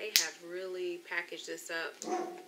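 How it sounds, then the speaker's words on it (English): A dog gives a few short barks in the background while a person talks nearby. "I'm sure you guys can hear him barking"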